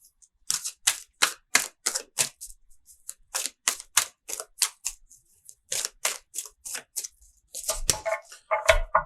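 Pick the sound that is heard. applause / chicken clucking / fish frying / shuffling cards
shuffling cards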